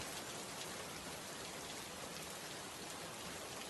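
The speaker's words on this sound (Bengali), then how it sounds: "এ কি সারা দিন একরকম বৃষ্টি হয়ে আসছে" Steady heavy rain pours down on a flooded village field, a dense even hiss with no breaks or voices.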